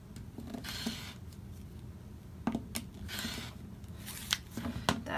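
Scissors trimming fabric for a 3.5-inch half square triangle quilt block, several short crisp snips and rustles of cloth close by, with quiet pauses between cuts.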